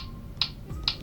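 A kick drum in the Real Drum game, tapped on a Redmi Note 11 screen, plays through the phone speaker as two short, thin, clicky hits about half a second apart over a quiet hiss.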